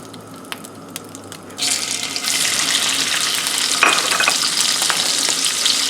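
Half a dozen or more shrimp drop into reused hot oil, and a loud, steady sizzle takes over after a quieter start and holds to the end with no talking.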